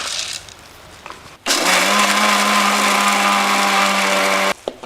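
A kitchen mixer grinder runs loud and steady, grinding about 100 grams of roasted gram for several seconds before stopping abruptly.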